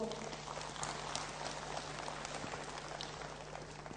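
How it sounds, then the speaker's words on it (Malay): An audience at a university meeting gives a long burst of thunderous applause, a dense, even patter of many hands that carries on steadily and sounds somewhat distant. "Satu tepukan gemuruh."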